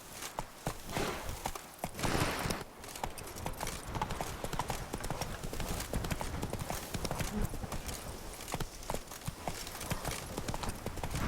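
Roach, a horse in The Witcher 3: Blood and Wine, gallops in a fast, continuous clip-clop of hooves, close and steady, with faint snorting breaths mixed in.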